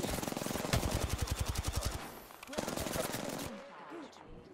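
Automatic weapon fire in the battle-royale shooter Apex Legends: a long, rapid burst of evenly spaced loud shots, a short lull, then another burst that trails off, up close.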